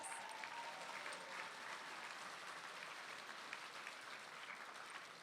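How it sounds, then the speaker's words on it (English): Sustained audience applause at an education gala, a dense, steady wash of clapping from a large crowd lasting throughout with no break. "Can we give him a round of applause?"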